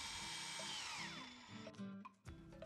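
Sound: power drill driving hinges into frame

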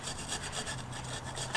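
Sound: wire brush scrubbing paint off brake calipers

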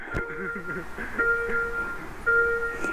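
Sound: electric scooter parking sensor warning sound while reversing

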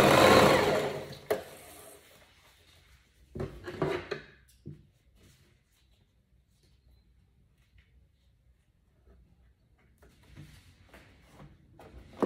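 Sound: sewing machine sewing tutu socks

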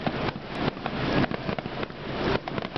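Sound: fireworks exploding over Spring Lake, Michigan

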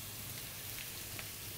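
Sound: dried fish frying with browned onions

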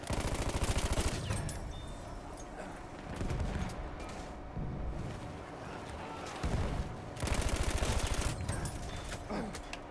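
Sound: gunfire from a gun in the video game Battlefield 1

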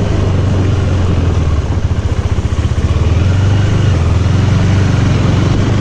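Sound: motorcycle riding at night

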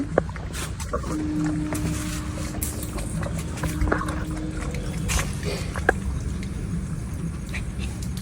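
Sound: water flowing from an opened pipe

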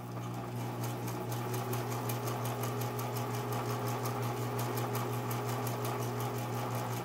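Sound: Singer Imperial sewing machine sewing small stitches

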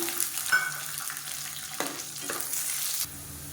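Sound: frying garlic in a pan for chutney

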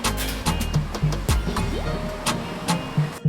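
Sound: stainless steel dough kneading mixer motor running

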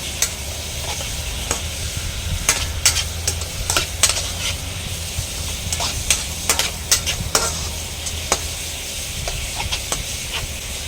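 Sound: stir-frying pork with holy basil in a pan

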